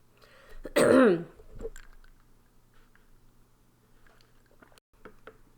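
One loud, harsh throat-clearing cough close up, followed by a few faint smacks and small mouth sounds in a quiet room.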